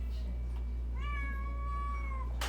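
A big neutered male cat gives a single drawn-out meow lasting over a second, clear and close, over a low steady electrical hum, with a short sharp noise at the end.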